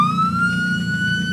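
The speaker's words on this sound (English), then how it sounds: "and then the siren" A vehicle siren in BeamNG.Drive holds a steady, loud, sustained wail with a slowly rising pitch, accompanied by a low engine hum underneath, with no talking.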